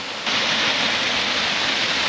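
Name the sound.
Moss Cave waterfall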